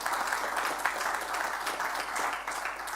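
Steady applause from a crowd, dense clapping sustained evenly for the whole stretch with no voices on top.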